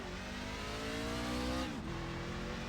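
A race truck engine in the iRacing simulator runs steadily near full throttle on a lap at Charlotte, a sustained loud drone with a brief dip in pitch as the revs drop and climb again.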